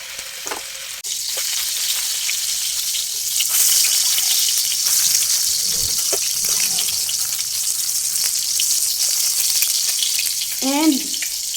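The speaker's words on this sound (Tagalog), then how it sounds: "naglagay na ako ng oil sa aking frying pan para ready to cook na ng hotdog" A hotdog frying in oil in a frying pan gives a loud, continuous sizzle with crackles and spatters, brief stirring clinks, and a short vocal sound near the end.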